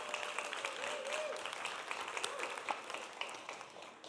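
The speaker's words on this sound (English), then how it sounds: "Can we give a round of applause to the Portland Psychedelic Society for doing this?" Steady applause from an audience, a dense patter of many hands clapping at moderate volume throughout, with faint crowd murmur underneath.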